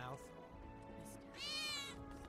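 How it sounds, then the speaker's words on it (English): A cat meows once in Final Fantasy VII Remake, a short, bright, rising cry near the end. Quiet game ambience and music sit underneath. "That was definitely a cat."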